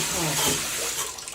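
Water sprays steadily from a rain shower head in a bathroom, a continuous close hiss with no breaks.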